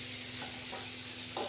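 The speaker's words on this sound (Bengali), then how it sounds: "আর এখানে মাছ ভাজা চলছে" Fish frying in a pan of hot oil on a home kitchen stove gives a steady close sizzle, with a brief stir or scrape near the end and no talking.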